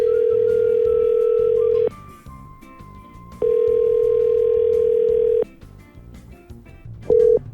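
A telephone call to the Coca-Cola customer service line, 1-800-GET-COKE, ringing through: a loud, steady electronic tone in long bursts of about two seconds separated by pauses, then a brief start of another burst.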